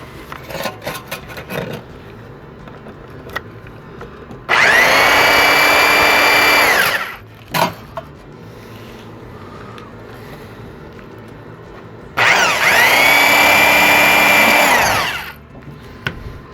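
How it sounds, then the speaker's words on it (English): A power drill boring into recycled tin cans, two sustained whining bursts of about two and a half seconds each with a brief pause between, loud and close, against a quiet background with a few small knocks. "When you're drilling into where the things are, sometimes the drill doesn't want to go"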